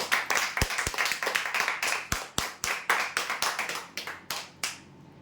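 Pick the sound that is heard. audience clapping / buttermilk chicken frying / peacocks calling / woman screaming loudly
audience clapping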